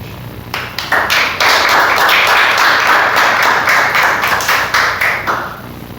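Church congregation clapping during a worship service, starting with a few sharp hand claps and swelling into loud, close, continuous clapping with some rhythmic accents.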